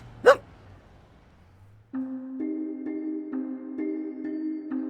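A dog gives one short, sharp bark at the start, followed by a gap, then soft sustained music with repeating tones.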